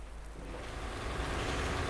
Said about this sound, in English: It's getting dark, and it's raining again.